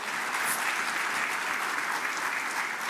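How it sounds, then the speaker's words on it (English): Loud, sustained audience applause filling a conference hall, a dense even wash of clapping with no gaps. "And so there's a loud applause,"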